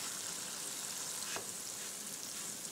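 Donuts fry in hot oil while a spoon turns them, a steady close sizzle with one short scrape of the spoon partway through, no talking.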